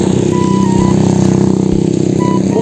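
A 1000cc motorcycle engine drones steadily and loudly at close range while riding to market, a constant even roar with no voices over it.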